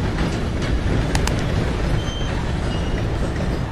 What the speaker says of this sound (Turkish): Dedim tren bizi biçiyor mu yoksa?